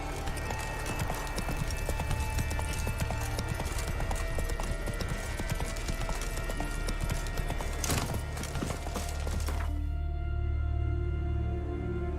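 Hooves of Geralt's horse Roach clip-clop steadily and loudly in The Witcher 3: Wild Hunt, a fast continuous gait under game music, ending abruptly near the end as the scene changes to a low hum.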